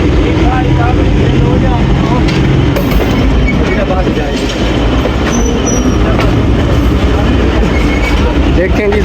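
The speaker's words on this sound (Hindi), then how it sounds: "चलो जी ट्रेन हमारी मूव हो रही है" The Jaffar Express pulls away from platform 4, its wheels and carriages rumbling on the rails in a loud, steady roll with occasional faint squeals, close and continuous throughout as someone talks in the background.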